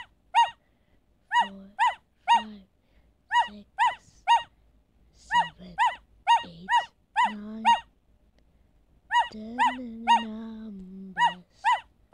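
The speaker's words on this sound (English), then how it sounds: "D is for dog" A children's alphabet app plays a repeated dog sound effect: a rapid string of sharp, bright barks in quick clusters of two to four, each group separated by short gaps, loud and clear with no speech over it.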